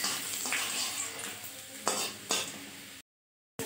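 Cinnamon, cloves, cardamom and sliced garlic frying in hot oil in a pan for chicken korma; steady close sizzling with a few sharp stirring scrapes, then a brief cut to silence.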